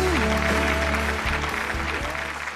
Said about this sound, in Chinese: 我们要掌声谢谢六号、七号两位男嘉宾参与我们节目